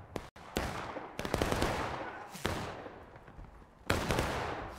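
Musket volleys crack out in the War of Rights battle game, several loud, sharp reports with rolling echoes and scattered shots across the line, no voices heard.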